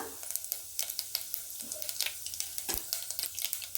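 Chana dal and mustard seeds fry in a pan with jeera and coriander seeds for chana dal masala, giving a light crackling sizzle broken by sharp pops and a few stirring scrapes, fairly quiet and with no voices.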